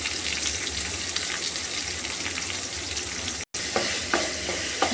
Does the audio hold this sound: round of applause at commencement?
no